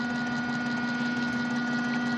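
Steady hum of a rewired BLDC washing-machine motor driving a fan on its high setting, a constant mid-pitched drone with a fixed whine and even airflow rush, unbroken throughout.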